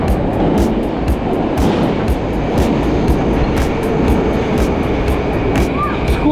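A loud, steady rumble of a train rolling past nearby, with rhythmic clicks from the wheels over the rail joints.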